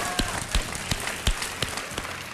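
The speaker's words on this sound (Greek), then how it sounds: "Χειροκροτάς, Μπέση, ε." A judge on a Greek TV singing show claps several times, sharp uneven claps over faint background room noise and murmuring.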